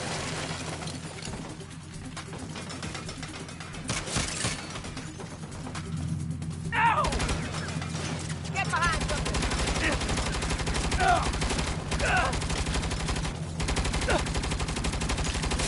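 Turret machine gun fire in the Saints Row game, a dense, sustained clatter running under game noise and a voice, growing louder and steadier in the second half.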